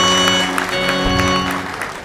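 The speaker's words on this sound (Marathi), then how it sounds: "टाळ्या" Steady applause from an audience at a Marathi public sermon or kirtan, sustained and fairly loud across the whole stretch, fading a little toward the end, with no voices over it.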